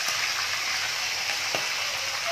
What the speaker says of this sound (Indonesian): Just goreng dengan kunyit saja nah